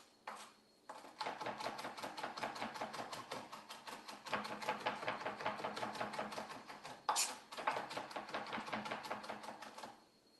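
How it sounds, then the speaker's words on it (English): A knife scrapes and taps rapidly on a cutting board as garlic is worked with salt into a paste. The quick rhythmic strokes come in steady bursts with short pauses, close and fairly soft. "add a pinch of salt to be a little bit abrasive and help pull out moisture and break this down into a smoother garlic paste"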